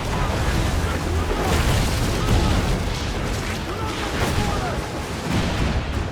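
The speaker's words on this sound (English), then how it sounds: "The chain shot is a stun weapon. Hitting ships slows them down." Ship cannons firing chain shot in the naval combat of Assassin's Creed 4, a dense, continuous roar of booming gunfire and rumble lasting several seconds.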